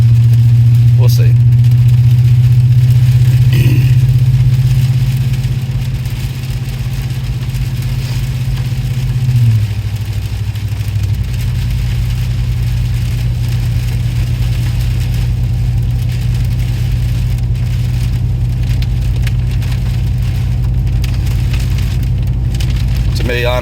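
A deep, loud GM 6.6-liter pickup truck engine with the muffler deleted idles with a throaty, unmuffled rumble, shifting pitch partway through, while someone talks over it, in the rain.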